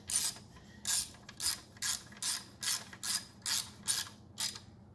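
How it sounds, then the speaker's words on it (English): A hand ratchet tightening bolts on the carbon fiber engine cover of a C7 Corvette, clicking in about nine even, close bursts at a steady pace, with no talking. "we're finishing up tightening the bolts"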